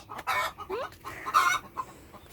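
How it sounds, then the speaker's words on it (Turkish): Chickens cluck and squawk in short bursts close by, a few quick calls with brief pauses between them. "tavuklarımız tavuk yumurta yapıyor"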